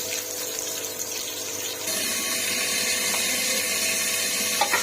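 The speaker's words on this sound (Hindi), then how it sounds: "ये प्याज ब्राउन होने तक हम इसको मटर को धो लेते हैं" Water runs from a tap as peas are washed, a steady rushing hiss that gets louder partway through and continues without a break.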